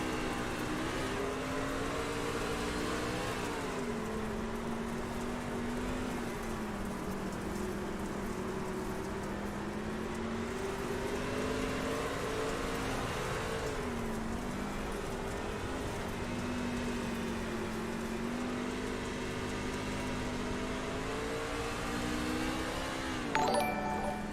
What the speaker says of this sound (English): hear these drivers work themselves through the gears and around the racetrack here at Eldora Speedway